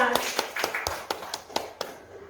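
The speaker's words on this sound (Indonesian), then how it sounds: "Tepuk tangan untuk Bu Siska." Scattered claps from a small group, sharp and irregular, spread over a couple of seconds and fading toward the end.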